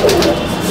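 Chapka Giribaz pigeons in a loft in Julpia, South 24 Parganas, give a single short, close, throaty coo.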